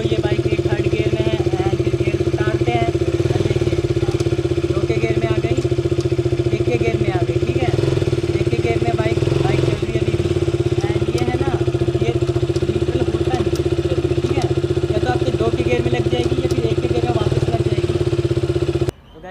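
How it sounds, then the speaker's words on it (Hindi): A KTM RC200 motorcycle engine runs steadily in third gear, a bike with a gear-shifting fault, producing a constant loud mid-pitched drone with faint mechanical clatter throughout, while someone talks over it. "जैसे कि आप देख सकते हो ये बाइक मेरी थर्ड गियर में है"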